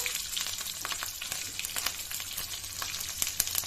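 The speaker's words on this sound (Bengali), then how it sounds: "তেল গরম হয়ে গেছে ওর মধ্যে দিয়ে দেবো আমি জিরা ফোড়নে দিলাম জিরা তিনটে কাঁচা লঙ্কা" Cumin seeds and three green chillies crackle and sizzle steadily in a small amount of hot oil, a dense, close frying hiss with scattered pops throughout.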